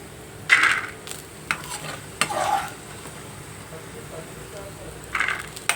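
Peanuts roasting in a pan for raw mango pulihora, a few stirring scrapes over a quiet dry sizzle, close up, with a voice speaking over it.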